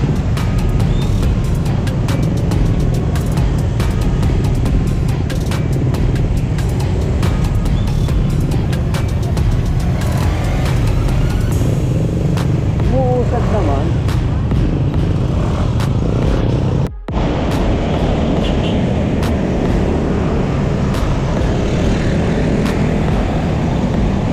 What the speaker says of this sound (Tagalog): matindi pala ang traffic dito mga idol oh